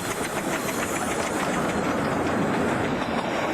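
A train crossing a bridge over the River Teme rumbles along steadily with a constant broadband roar and faint rhythmic clatter from the wheels, close and loud, with no voices.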